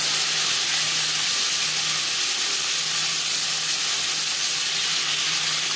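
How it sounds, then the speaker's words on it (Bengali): Panch phoron, bay leaf and tomato sizzle in hot oil for a Bengali katla fish curry, a loud, close, continuous hissing fry that holds steady throughout. "15-20 সেকেন্ড 5 ফোড়ন তেজপাতা ভেজে নেওয়ার পর দিয়ে দেবো টমেটো।"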